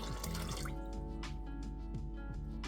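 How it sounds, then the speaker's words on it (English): Tap water pours steadily into a rice cooker pot holding yellow split peas, a continuous close splashing stream with small drips, no talk. "I'm going to add 600 millilitres of new water."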